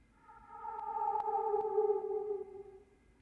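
The same detuned synth atmosphere plays dry without reverb. A held, harmonic-rich tone rises gently, sustains with a slight pitch waver and then drops away. It is quiet and alone, with a few faint ticks.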